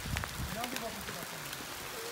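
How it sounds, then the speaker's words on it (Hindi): Heavy rain pours down in a steady, dense hiss on a motorcycle ride between Mansar and Machedi, with a voice talking faintly underneath. "तो बारिश बहुत तेज हो गई है।"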